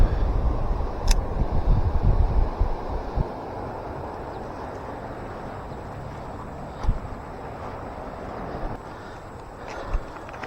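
Wind buffets outdoors on open water during a fishing outing, a broad rumbling gusty roar strongest at the start, then a steadier hiss with occasional soft bumps.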